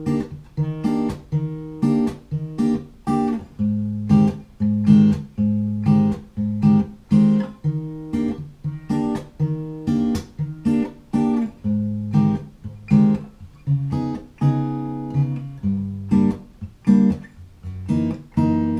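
Guitar playing a theme from Super Mario Odyssey, a rhythmic, steady pattern of plucked and strummed notes at a lively pulse, close and clear with no talking.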